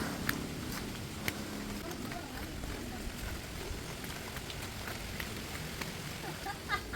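Steady rain patters on a surface during a windy storm, with a constant hiss and scattered drops, backed by gusty noise and no clear talk.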